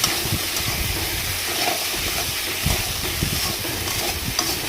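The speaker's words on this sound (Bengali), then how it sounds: "নুনটা দিচ্ছি পরিমাণ মতো হলুদ দিয়ে দিব, দিয়ে নাড়াচাড়া করুন" Food seasoned with salt and turmeric is stirred in a pan, a constant hissing sizzle with scraping and soft knocks from the stirring running throughout.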